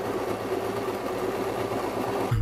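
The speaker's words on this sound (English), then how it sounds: "I'm going to do a straight stitch to secure that in place" A sewing machine runs a straight stitch joining fabric pieces from a jacket being turned into a backpack, a steady rapid mechanical whir with rhythmic ticking, close and continuous, with a thump at the end.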